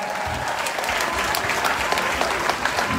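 An audience applauds a man as he walks up to the front at a gathering, with sustained, fairly loud clapping and a busy crowd texture throughout.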